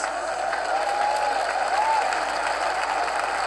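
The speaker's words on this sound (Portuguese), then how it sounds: "Podemos dar uma salva de palmas?" A Catholic Charismatic Renewal audience applauds steadily at a relic handover ceremony, a continuous wash of clapping with light cheering and a faint voice in the background.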